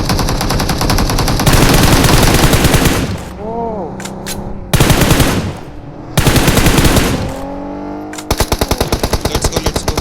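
Rapid automatic gunfire from the PUBG battle royale game bursts in long dense volleys, breaking off for short gaps filled with swooping whistles before resuming, with a voice talking faintly in between.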